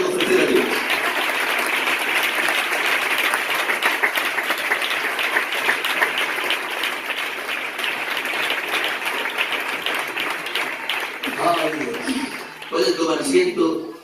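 A church congregation applauds steadily for a long stretch, a dense wash of clapping that holds, then thins near the end as voices surface.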